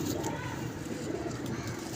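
A pigeon at a pigeon club cooing in soft, low, throaty pulses, heard close against a busy, noisy background with other sounds around it.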